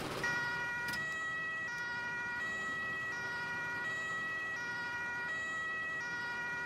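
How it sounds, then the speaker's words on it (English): An ambulance siren in the Emergency 5 firefighting game wails in a steady repeating two-tone cycle, moderately faint and continuous with faint traffic beneath and no talk. "And he's gonna be following the ambulance."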